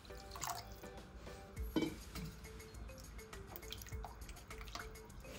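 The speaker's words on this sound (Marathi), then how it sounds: "तर पुन्हा मी यामध्ये पाणी घालते" Water poured into a chutney mixture for Solapur pav chutney, heard as faint trickling and dripping with a few small clinks, quiet and close with no talk.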